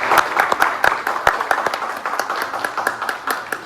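Audience applause at a Dania Beach candidates forum, a scattered round of hand claps from a modest crowd, fairly close and moderately loud, tapering off over a few seconds.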